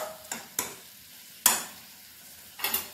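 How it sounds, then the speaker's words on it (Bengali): A spatula scrapes and knocks in a pan of pui metuli curry with mustard paste over a low gas flame, four sharp strokes spaced irregularly over a faint sizzle, close and without voices. "সমস্ত কিছু দিয়ে এবার সর্ষেটা দিয়ে ভালোভাবে নাড়াচাড়া করে দিচ্ছি।"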